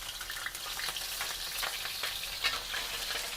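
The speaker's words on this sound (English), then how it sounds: "I use this oil because it's good protect the heart And we're going to put garlic." Garlic sizzles in heart-healthy oil in a pan, a dense, continuous crackling fry with small popping bursts, close and alone.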